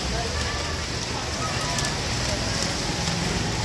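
Steady, dense patter of rain falling without a break at an outdoor fish market, a continuous broadband hiss, with faint voices murmuring somewhere underneath.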